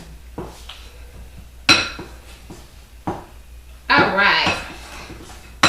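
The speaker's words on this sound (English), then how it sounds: "And we're just going to mix it all together." A spoon scrapes and knocks against a bowl while mixing chocolate chip walnut cookie dough, with a few separate clinks and a longer stirring stretch, as a person talks briefly.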